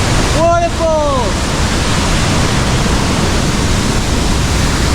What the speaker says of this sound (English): it's a beautiful twin waterfall.